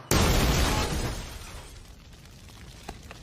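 A car crashes into an invisible garbage truck, a sudden loud smash and shattering burst that decays into a rough, fading rumble and scattered debris over a few seconds.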